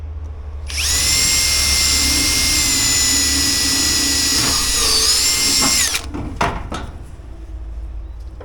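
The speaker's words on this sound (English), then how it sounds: "Service the old riveter, and I generally put 2 in the face side." An old pneumatic riveter runs with a loud, steady high-pitched whine for about five seconds, then cuts off, followed by a few sharp clicks and knocks.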